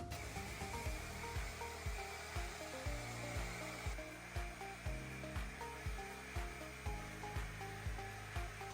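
A hot air brush hair dryer runs on its second, faster speed while drying hair, giving a steady, close whirring blow with a faint regular ticking pulse throughout.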